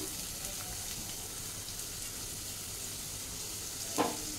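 Chopped onion sizzles in hot oil for a baby corn Manchurian, an even, dense frying hiss that stays constant throughout, with a short clatter near the end and no one speaking.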